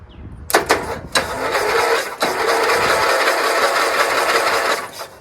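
Briggs engine on a Dayton lawn tractor cranking after the solenoid is jumped: a click, a few short bursts, then a loud steady whirring crank for several seconds that doesn't catch, close up.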